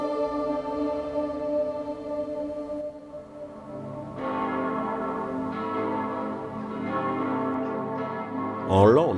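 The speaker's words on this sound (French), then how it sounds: "les cloches de Santiago se mettaient à sonner à toute volée" Church bells ring out in full peal, layered resonant tolls overlapping and sustaining, growing fuller partway through before a brief clatter at the end.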